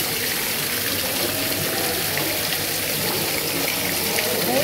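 A small waterfall splashing into a pond at an aquarium gives a steady, close, even rush of falling water with no break throughout.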